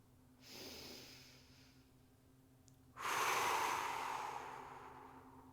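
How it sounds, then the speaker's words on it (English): Slow diaphragmatic belly breathing close to the mic, one soft, airy inhale followed after a pause by a longer, louder exhale. "Don't forget your diaphragmatic breathing,"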